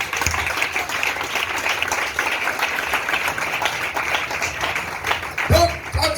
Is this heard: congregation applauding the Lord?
yes